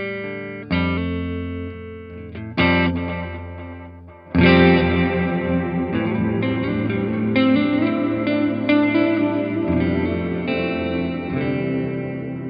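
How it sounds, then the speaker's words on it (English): Thick ambient reverb from a Line 6 POD Go guitar processor, with several guitar chords struck and left ringing into a dense, swelling wash of sustained tones that stays loud and blends together. "I dialed it in way too thick just to have just use it as that ambient reverb"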